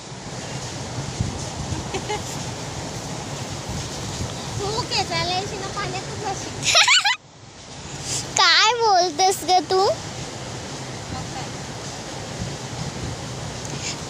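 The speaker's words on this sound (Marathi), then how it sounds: "हे बघा किती पाणी वाहते" River water flowing down from the hills, a steady broad rushing wash that runs the whole time, with a voice talking over it partway through.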